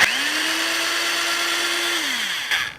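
An old metal-body corded electric drill runs at a steady, loud whine, then winds down, followed by a brief rattle at the end.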